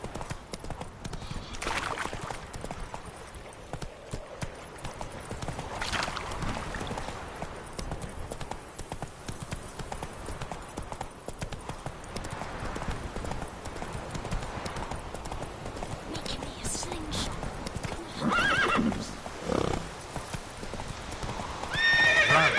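Horse hooves clip-clop steadily at a gallop in a PS4 video game, with whinnies and neighs breaking through, and a voice occasionally calling out over the continuous pounding.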